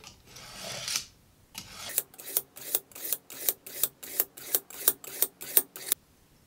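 Kitchen knife drawn through the fine slot of a Bavarian Edge sharpener, about a dozen quick rasping strokes in an even rhythm after a short pause, close and crisp with no talking.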